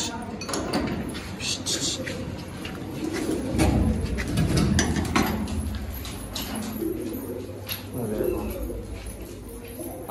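Low pigeon coos and rustling wings nearby as pigeons sit on a ceiling fan indoors, mixed with indoor clatter while someone talks over them.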